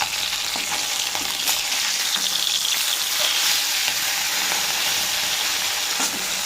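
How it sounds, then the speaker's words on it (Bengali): Bata fish frying in oil over a wood fire, a loud, continuous dense sizzle and crackle held steady throughout, close up with no voices. "বাটা মাছটা ভাজছি।"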